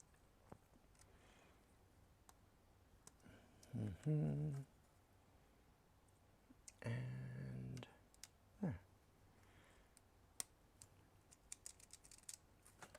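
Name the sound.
keyboard switch keys being pressed into place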